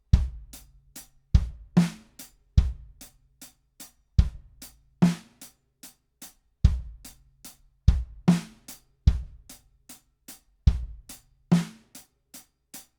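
A linear drum groove shared between kick drum, snare drum and hi-hat, one hit at a time in a steady repeating pattern, crisp hi-hat ticks between deep kicks and snare cracks, close and dry with no talking.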